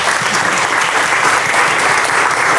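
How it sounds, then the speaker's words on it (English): Audience applauding after a talk on nationalism and democracy, a dense, steady wash of many hands clapping at full volume throughout. "Let's have a big round of applause for both Margaret and Maya."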